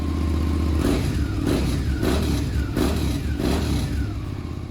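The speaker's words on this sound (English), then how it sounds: "The Suzuki SV650 V-Twin revolutionized middleweight motorcycling." A Suzuki SV650 645 cc liquid-cooled DOHC 8-valve V-twin motorcycle engine revs loud and close, rising and falling in about four repeated throttle blips over a throbbing idle.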